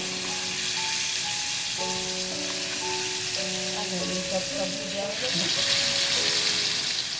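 Chicken pieces frying in oil at moderate heat, a steady dense sizzle and crackle close by that swells louder near the end, with faint tonal hums under it and no speech.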